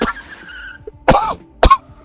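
Two loud, close coughs a person makes during a sim-racing stream, sharp broadband bursts about half a second apart, after a short stretch of quieter background sound.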